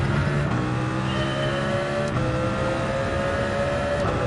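A Honda NSX GT500 race car in Gran Turismo 7, raced at Spa, gives a continuous high engine drone with shifting revs and brief gear-change dips, loud and close.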